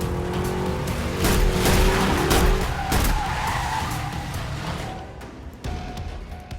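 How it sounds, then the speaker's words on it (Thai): A car skids loudly through a handbrake U-turn drift, a sustained tire squeal rising and sweeping for about two seconds, followed by engine noise fading as it pulls away. "เพื่อนขับรถดึงเบรกมือยูเทิร์นครับ"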